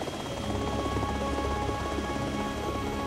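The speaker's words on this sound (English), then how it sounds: "I'm in a chopper chasing that runaway." A helicopter flies overhead in a chase, its rotor and engine drone sounding as a continuous, fairly loud thrum with a steady tonal whine.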